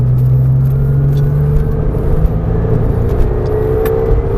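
A Porsche 911 accelerating hard on the Marcoussis race track, a loud close-up engine drone with rising pitch and steady roar, heard from inside the car without talking.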